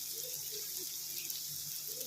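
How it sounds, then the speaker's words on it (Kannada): Hot water is poured from a chombu, a small metal water pot, into a pan for masala upma, giving a steady soft splashing hiss throughout, low in level with no voices. "ಚೊಂಬು ಹಾಕ್ತೀನಿ ಫ್ರೆಂಡ್ಸ್"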